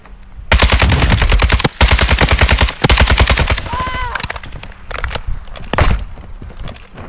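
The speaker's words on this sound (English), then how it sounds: "The high rise is still shooting at me." Gunfire in Warzone DMZ: loud, close bursts of rapid automatic fire in several strings, separated by short gaps, then scattered single shots and clatter toward the end.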